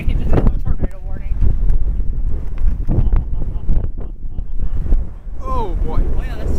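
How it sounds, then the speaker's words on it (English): Strong storm gusts during a tornado warning buffet the microphone with heavy low rumbling, while people talk excitedly over the roar. "it's never a good sound. That's a gust."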